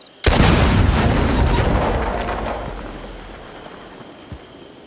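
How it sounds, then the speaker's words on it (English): Dynamite shot and detonated in a video game: one sudden loud boom with a long rumbling roll that slowly fades over several seconds, followed by a faint later thump. "All right, shooting the dynamite."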